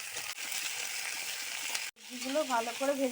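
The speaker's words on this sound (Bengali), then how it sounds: "তাতে একটু পাঁচ ফোড়ন দিয়ে দিতে হবে ভালো করে ভেজে নিতে হবে" Five-spice seeds crackle and fry in hot oil for a bottle gourd greens curry, a steady sizzle that briefly cuts out, then returns with someone talking over it.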